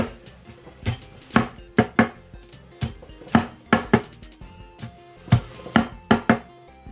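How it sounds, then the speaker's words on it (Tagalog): A knife chops crispy fried lechon kawali pork into small pieces on a board, sending out about twenty sharp, close thuds in an uneven rapid rhythm, often in quick pairs. "Hiwain lang po natin ito na maliliit."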